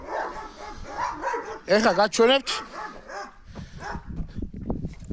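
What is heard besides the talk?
Georgian shepherd (nagazi) puppies barking and whimpering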